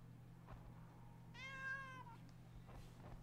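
A single cat meow, a clear rising-and-falling tonal call lasting about a second, fairly close, set against a low steady hum and otherwise quiet background.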